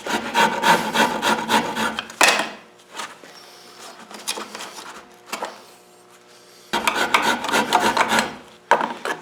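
A guitar neck of figured maple and walnut is hand carved with a dragon file and a Japanese rasp, giving loud, rhythmic scraping strokes in bursts, with a quieter stretch of lighter rasping between them.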